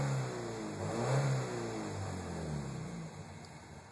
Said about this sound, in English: So if we rev up, see it's cutting every 30 milliseconds.